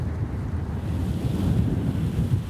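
Cold wind gusts outdoors in a constant low rumbling roar, buffeting the microphone for the whole stretch with no talk.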